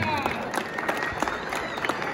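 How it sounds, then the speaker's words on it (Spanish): A crowd at a miniature rooster show in Tepa, Mexico claps briefly for a second-place bird, a faint, somewhat distant patter of scattered hands with a voice and background noise mixed in. "Aplaudir, señores."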